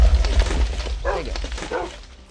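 Wolves bark and yip in a Minecraft world modded with Naruto content, a few short mid-range calls over a low rumbling game background.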